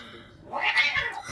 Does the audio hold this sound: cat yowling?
yes